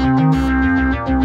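An electronic bubbling effect repeats in quick, distorted pulses, loud and close, with a steady tonal hum underneath and a brief dip just before the end.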